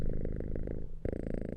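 A house cat purring close up, a steady low rumbling rhythm with a brief break midway before it resumes.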